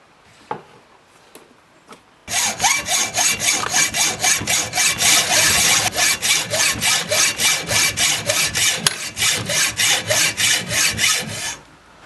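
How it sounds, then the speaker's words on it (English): A hand saw cuts steadily through part of a vintage cast iron meat grinder held in a vise, loud close rhythmic back-and-forth strokes running for about ten seconds after a few light taps. "I can now saw that off"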